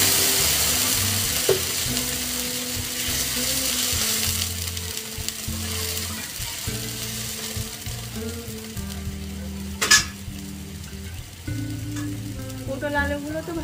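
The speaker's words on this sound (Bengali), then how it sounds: "গরম জল করে রেখেছিলাম, জলটা দেব।" Hot water is poured into a pan of frying pointed gourd and potatoes, bringing a loud burst of sizzling that settles into steady bubbling frying, with some stirring and a voice speaking over it.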